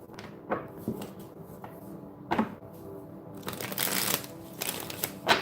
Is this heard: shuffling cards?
yes